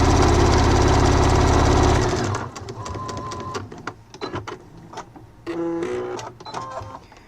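A sewing machine runs in a fast, steady mechanical whir for about two seconds while stitching a multifunction wallet, then stops, followed by close handling clicks, fabric shuffling and another short burst of machine noise.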